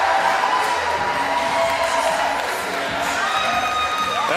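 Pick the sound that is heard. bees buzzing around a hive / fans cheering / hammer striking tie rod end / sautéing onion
fans cheering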